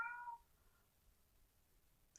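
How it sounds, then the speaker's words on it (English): A pet cat gives a single short, faint meow indoors at the start, followed by near silence. "That's my cat if you can hear it."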